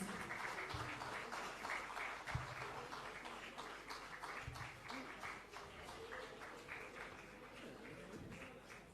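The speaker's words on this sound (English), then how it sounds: "big round of applause, please" Applause from the audience at a stock exchange listing ceremony for Chandan Healthcare Limited, steady dense clapping sustained throughout with a few sharper claps standing out.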